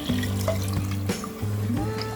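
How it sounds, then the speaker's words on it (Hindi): Water poured from a cup into uncooked rice in a cooking pan for mint and soya pulao, a short steady splashing pour that stops briefly and resumes, close and clear with no talk. "इसमें हम 4 कप पानी डालेंगे"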